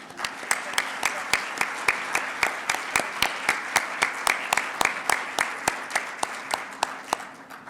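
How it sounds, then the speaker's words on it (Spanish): An audience at a justice seminar in Mexico applauds, a sustained steady patter of many hands with a few loud, evenly spaced claps standing out in a regular beat throughout. "Les pido que la recibamos con un aplauso."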